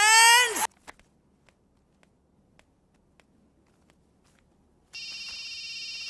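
A telephone rings in a Telugu film scene: a sharp electronic tone at the start, a near-silent pause with faint ticking steps, then a steady, insistent ringing that runs to the end.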